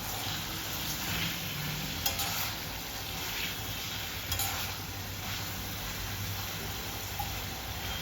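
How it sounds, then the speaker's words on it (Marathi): Paneer cubes frying in a pan give a steady, even sizzle throughout, with a few faint clinks from stirring and no voices. "पनीर छान असं आपलं फ्राय करून झालं आहे"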